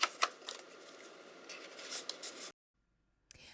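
Paper cards rustle and slide as they are tucked into paper library card pockets, soft close scraping and brushing for a couple of seconds, then silence and a brief final rustle.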